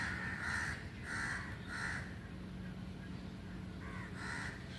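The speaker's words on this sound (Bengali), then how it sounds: "কাকগুলো ভাগ চাইছে খাবারের।" Crows hang around food and caw in a series of about five harsh bursts, fairly near and clear, with short pauses between calls and no talking.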